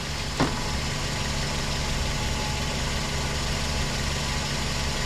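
A warmed-up 2005 Scion xA/xB (Toyota Yaris) engine idles steadily up close, a low, even rumble with no revving, apart from one brief click near the start.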